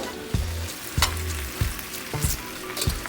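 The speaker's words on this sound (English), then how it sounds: "Once we have it all lathered in our butter, just let it simmer and cook." Brussels sprouts sizzle and fry in butter in a pan, a steady crackle broken by a few soft stirring knocks and scrapes, close and fairly loud with no one talking.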